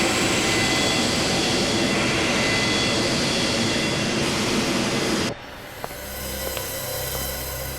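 A loud, steady broadband roar of an airplane in flight fills the scene, then abruptly drops to a lower, quieter cabin-like hum with a few faint clicks.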